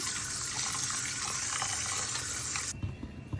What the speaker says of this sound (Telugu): రొయ్య పొట్టు రెండు సార్లు శుభ్రంగా కడుక్కోవాలండి